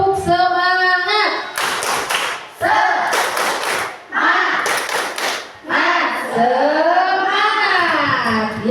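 Children in a classroom perform a rhythmic spirit clap, several loud, tight bursts of group clapping in patterned beats, alternating with children chanting along between the clap groups.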